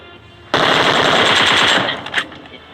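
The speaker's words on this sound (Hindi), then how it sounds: "उजी की 100 गोली चलाई यहाँ पे किसी ने।" Sustained burst of Uzi submachine gun fire in the PUBG battle royale video game, a loud rapid stream of shots lasting well over a second before tapering into a few scattered final rounds.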